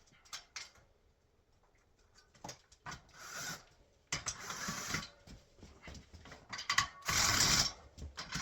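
A hand ratchet with a 13 mm socket on a wobble extension is worked during server rack assembly, giving close, irregular clicking and rubbing strokes that build into longer bursts toward the end.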